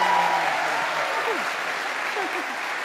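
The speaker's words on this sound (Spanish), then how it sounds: "¡Un aplauso, por favor!" A church crowd applauds, dense steady clapping filling the whole stretch at moderate loudness, with faint overlapping voices underneath.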